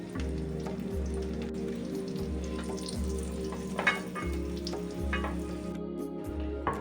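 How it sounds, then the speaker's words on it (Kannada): Raisins sizzle in hot fat in a pan beside fried cashews for a pumpkin sweet, a steady close frying hiss broken by regular stirring scrapes, with no voices. "ದ್ರಾಕ್ಷಿಯನ್ನು ಕೂಡ ಹಾಕಿ ಫ್ರೈ ಮಾಡಿಕೊಳ್ಳೋಣ."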